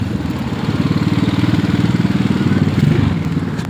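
A motorcycle engine putters steadily up close with a rapid, even pulse as motorcycles and cars pass on a crowded road, traffic noise rumbling continuously underneath.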